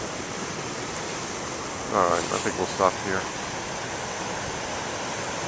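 Big ocean waves crash at the shore, a constant loud, even roar of surf filling the whole stretch while someone speaks briefly in the middle.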